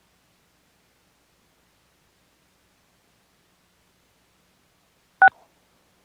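A single short telephone keypad DTMF beep from a call-in line during a public meeting, one clean tone in otherwise silent audio.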